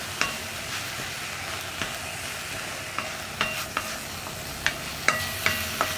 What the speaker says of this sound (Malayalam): ഇതെല്ലാം ചേർത്ത് നന്നായിട്ടൊന്ന് ഇളക്കി മിക്സ് ചെയ്തിട്ട്